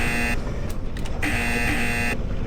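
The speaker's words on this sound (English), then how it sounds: "you'll like the buzzer when you leave the stops" A loud, harsh electric guard buzzer sounds twice with a brief break between, over the low rumble of a moving Class 377 Southern train between London and Gatwick.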